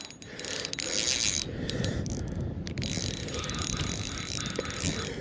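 A fishing reel's drag clicks and ratchets steadily while being loosened during a fight with a lake trout on Lac Témiscouata, jigging from a boat, a fairly close mechanical buzz running through the whole stretch.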